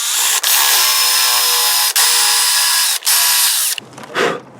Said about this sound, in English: the last drill bit size is the 11/32. This is going to be the largest of the drill bits.